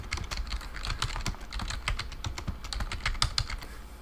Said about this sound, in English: so we're going to be typing it.